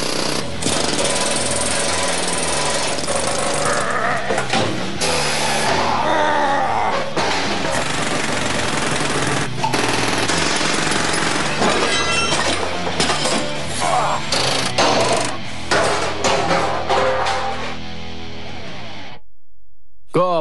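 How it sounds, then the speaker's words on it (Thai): A pneumatic jackhammer, a handheld breaker used on concrete, rebar and steel, pounds loudly and steadily for most of the span with metallic clinks and shattering debris, then cuts out near the end. "ค้อนลมอัดอากาศนี้โดยพื้นฐานแล้วเป็นเครื่องเจาะมือถือใช้สำหรับทุบผ่านคอนกรีต"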